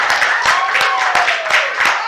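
An audience at a union young worker town hall in Minneapolis claps steadily, a dense, close patter of many hands with rhythmic peaks that runs through the whole stretch, a faint voice or whoop underneath.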